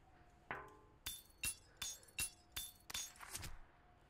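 Glass blocks shatter one after another in Minecraft, about seven sharp, bright crashes in quick uneven succession, close and fairly quiet, with no talk over them.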